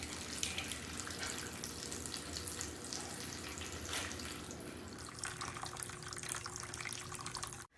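Water streaming out of several holes punched in a plastic bottle, a quiet continuous splashing and trickling that holds steady for several seconds, then cuts off abruptly at the end.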